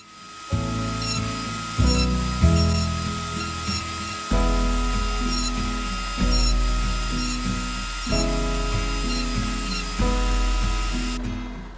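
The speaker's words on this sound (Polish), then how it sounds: "I teraz każdą gałązkę muszę przewiercić." A power drill bores holes through wooden branches in repeated bursts, each whine rising as the bit spins up and bites into the wood, loud and close, with short pauses between holes.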